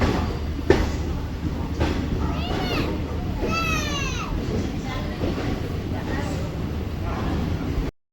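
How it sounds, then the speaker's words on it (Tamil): Guruvayur Express train pulling out of a station, a steady low rumble of wheels on rail with faint squealing tones, while people chatter nearby throughout. "இப்போ ட்ரெயின் வந்து ஸ்டேஷனை விட்டு மூவ் ஆகிடுச்சு, வெளியே வந்தாச்சு"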